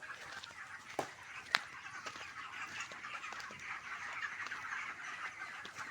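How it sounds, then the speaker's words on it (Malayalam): A flock of chickens clucks and chatters steadily at a moderate distance, with a couple of sharp knocks standing out early on. "കോഴിക്കളുണ്ട്"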